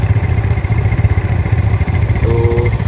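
A Yamaha Mio Fino scooter engine idles loudly nearby with a steady low chug and light mechanical clatter, a brief whine rising near the end.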